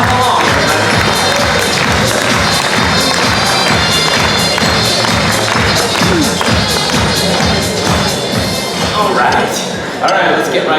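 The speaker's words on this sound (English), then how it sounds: "Come on, we have music for her, so you can all clap along, everybody." A showboat audience claps steadily in rhythm along to loud music, dense rapid clapping filling the room with crowd noise and voices mixed in.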